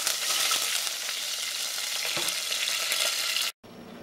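Loud, crackling sizzle of leaves frying in hot oil, with occasional scrapes of stirring; it cuts off abruptly near the end.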